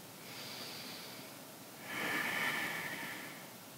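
Slow, audible yoga breaths during a yin yoga twist, a long soft exhale followed by a stronger airy breath, close and steady with no talking.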